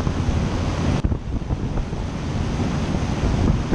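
A Liebert HVAC unit fan blows air with a loud, steady broadband rush, close to the microphone and continuous throughout with no voices.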